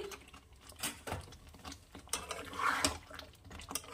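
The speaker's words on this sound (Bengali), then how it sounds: "আবার একটু আলতো হাতে নাড়িয়ে নেব" Paneer butter masala with chopped coriander gently stirred in a pan, giving faint scraping and light clinks of a spoon against metal, quiet and close.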